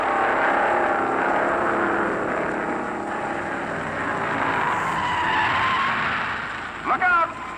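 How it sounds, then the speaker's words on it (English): Race cars roar down the backstretch of a dirt oval in a steady, loud engine drone with skidding tires, ending in a short, sharp burst of rising tones. "Down the backstretch, both drivers giving their cars a bone-shaking ride."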